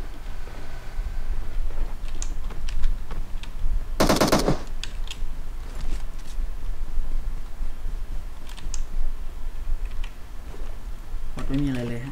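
Gunfire in the mobile battle game PUBG Mobile: one loud, rapid automatic burst midway, with scattered fainter shots and clicks around it. Voices talk over the game sounds.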